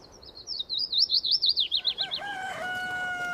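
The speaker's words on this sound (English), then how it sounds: "Birdsong returns to the countryside after a long, silent winter." Songbird calls in the countryside at the end of winter, a fast trilling warble repeated about a dozen times, then sliding into steady whistled tones, close and clear with no voices.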